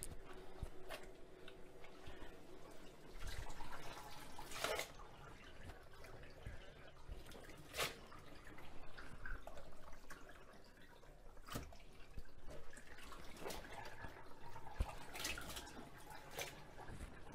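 A ZENY portable mini twin tub washing machine drains its rinse water, a steady wash of running, dripping water with scattered clicks and knocks, heard close and alone.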